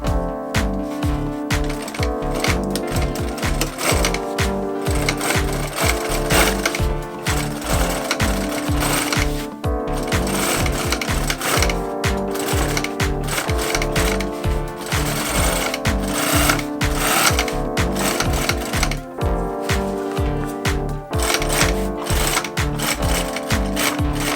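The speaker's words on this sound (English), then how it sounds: "now I'll just add a second row of stitches just to add some security to this seam" A sewing machine runs a second row of stitches along the bottom seam of a large duffle bag, a steady rapid needle clatter that continues loud and close without pause.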